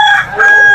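A young stag rooster at a poultry market in Malolos, Bulacan gives a short, loud, close crow with a bright harmonic tone, lasting under a second.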